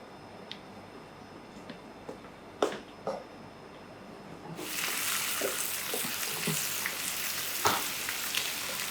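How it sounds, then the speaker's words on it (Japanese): Bacon hits a hot skillet over high heat and breaks into a loud, steady sizzle about halfway through, after a few quiet taps and clicks, with no talk. "最初は強火にしてベーコンを焼き上げます"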